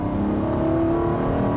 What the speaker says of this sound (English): this particular one we're driving is a very slight misfire, so you might hear that fluffing away